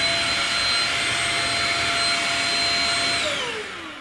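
Shark Rocket Deluxe Pro stick vacuum cleaner running with a steady high-pitched motor whine and airy rush, close and fairly loud, then spinning down as it is switched off near the end.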